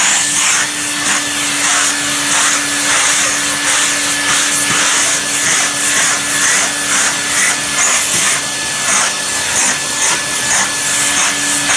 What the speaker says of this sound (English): it's useful to have a vacuum cleaner to hand, and then just sand off all the dust regularly